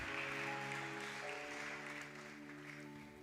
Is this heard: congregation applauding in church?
yes